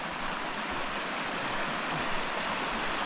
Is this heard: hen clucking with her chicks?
no